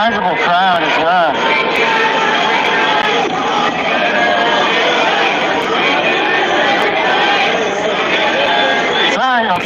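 Sizable protest crowd filling the air with dense, continuous chatter and shouting at close range, loud throughout with no clear pauses, with a few sharper cries near the start and end.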